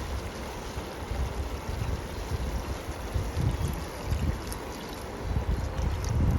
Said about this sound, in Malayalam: നമ്മൾ എടുത്തു വെച്ചിട്ടുള്ള തേങ്ങാപ്പാൽ മുഴുവനും ഇതിലേക്ക് ചേർത്ത് കൊടുക്കുക.